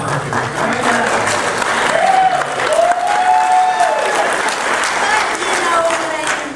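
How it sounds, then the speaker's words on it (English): Audience applause at a comic con Q&A panel, steady dense clapping through the whole stretch, with a few voices and whoops cutting through now and then. "applaud for you"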